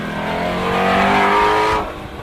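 A Ford Mustang GT350R's naturally aspirated 5.2-liter flat-plane V8 revs hard and loud, holding a sustained, rising engine howl close by for nearly two seconds before cutting off sharply.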